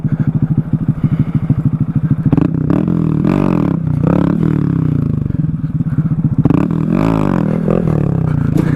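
A motorcycle engine idles with a close, rapid thumping pulse, then revs and surges with rising and falling pitch as it pulls away, punctuated by clattering and thuds.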